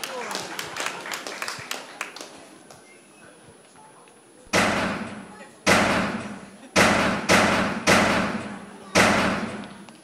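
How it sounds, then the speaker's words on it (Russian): Doors being nailed or boarded shut, heard as six heavy, resonant thumps that arrive at a steady pace in the second half, loud and close, after a stretch of voices and lighter knocks. "Они, походу, двери заколачивают."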